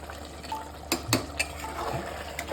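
Mutton being stirred and braised in a pressure cooker, with soft clinks and scrapes of a utensil against the pot over a faint, steady sizzle, a few sharper taps standing out.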